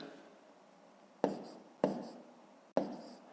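Pen or chalk strokes writing numbers by hand during a fifth-grade long-division maths exercise: three distinct sharp taps or strokes, each followed by a short scratching trail, fairly close and alone with no talk.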